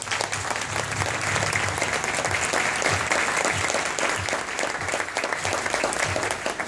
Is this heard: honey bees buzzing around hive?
no